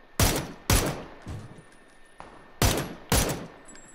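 Four loud, sharp gunshots ring out in PUBG: Battlegrounds, coming in two close pairs with echoing tails and a fainter report between them.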